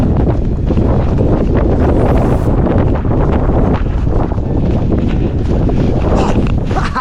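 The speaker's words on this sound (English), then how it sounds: "I don't know if you can hear the wind" Strong wind roars steadily against the microphone during a winter ultra race on snowy high ground, a loud continuous buffeting rush that fills the whole stretch with no voices.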